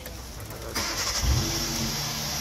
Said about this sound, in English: push the key down for the car to start